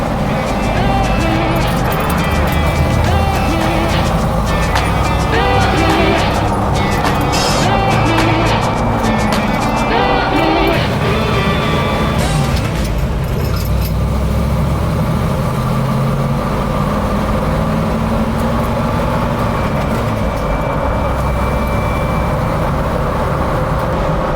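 A 1970 Corvette Stingray LT-1 drives along and shifts gears without the clutch, its engine rumbling steadily with rising and falling pitch between shifts under a person talking, heard close from inside the car.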